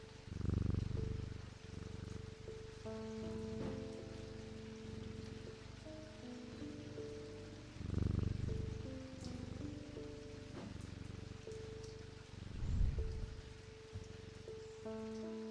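A cat purrs while being petted, a low close rumble that swells in a few distinct bursts over a steady bed of soft tonal sounds.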